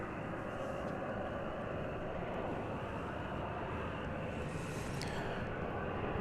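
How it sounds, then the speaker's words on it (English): An American Airlines Airbus A319 arrives at Dallas Fort Worth airport as a faint, steady distant jet rumble, with a soft higher whine rising briefly near the end. "We've got an American Airlines Airbus A319 arriving from Wichita, Kansas."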